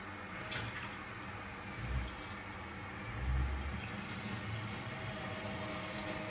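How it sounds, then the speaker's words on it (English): A pump pushes homebrewed Traditional Bock through a counterflow chiller and back into the tank of a BrewTools B80pro brewing system. It gives a steady, moderately loud flowing wash of liquid with low motor rumble and a couple of soft thumps. "I'm going to recirculate through the counterflow chiller back into the tank. So let's get the pump on."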